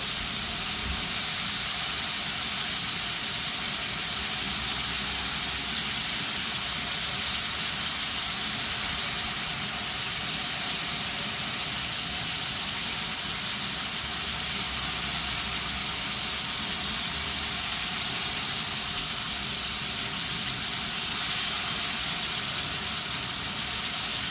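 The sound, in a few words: squid and pork belly sizzling in pan over high heat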